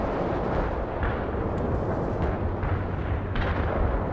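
Heavy artillery fire from a launcher in the war game World in Conflict, a dense continuous roar of booming blasts and rumbling low-end impacts that stays loud throughout with no voices.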